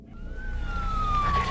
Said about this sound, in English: you could also hear fire trucks arriving at the scene